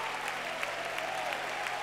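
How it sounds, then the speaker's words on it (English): A church camp meeting audience claps steadily, a dense, even wash of applause held at constant loudness throughout. "Clap your hands to the Lord and shout"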